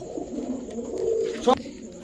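Pet pigeons (teddy, racer and high-flyer giribaz breeds kept for sale) coo low and close in a steady murmur, with one sharper, louder call near the end.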